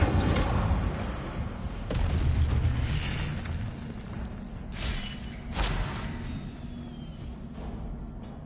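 Incendio fire spell cast in Hogwarts Legacy, giving a loud booming burst of flame near the start, followed by further fiery blasts and a rumbling surge over continuous game ambience.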